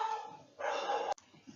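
Dogs bark in a muffled, continuous burst, somewhat distant, then stop abruptly; no talking.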